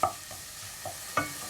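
Onions being stirred in a pan, with several sharp scraping clinks of a utensil against the pan at irregular intervals over a faint continuous sizzle, close by and with no speech.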